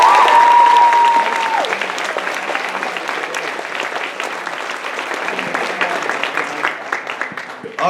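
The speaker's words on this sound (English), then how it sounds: "Give him a round of applause here." Audience applause at an anime convention closing ceremony, loud sustained clapping from a large crowd that slowly thins out, with a brief voice at the start.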